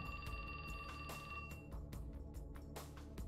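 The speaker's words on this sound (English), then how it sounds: "His phone rang." A phone rings in the video game 428: Shibuya Scramble, a repeating electronic ring with sharp pulses over a soft musical background, clear and fairly close, with no talking.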